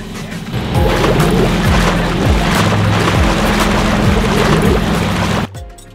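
A micro yacht's engine motors against strong river current, a loud steady drone under repeated thumping hull impacts and rushing water, cutting out abruptly near the end.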